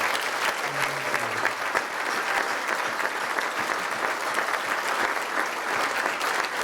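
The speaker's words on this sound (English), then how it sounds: "We want to applaud not only Hector," Steady, dense applause from a ceremony audience fills the room, continuous and fairly loud throughout with no break, a brief voice fragment near the start.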